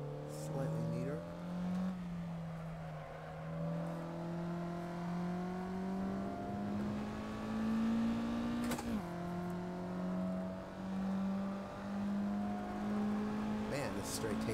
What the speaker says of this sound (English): Man, this straight takes forever in this car.